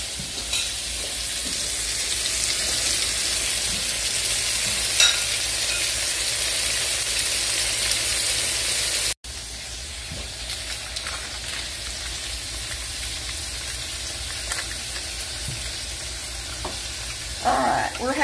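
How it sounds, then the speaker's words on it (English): Steady sizzling of okra frying in a pan, a constant bright hiss with occasional pops, continuing without talk for the whole stretch. "I'll probably fry up two batches of this okra"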